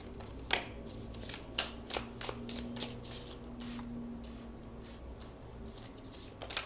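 Tarot cards are shuffled close by in a series of quick papery riffles and soft slaps over a few seconds, then the shuffling settles into quiet handling with a faint background hum.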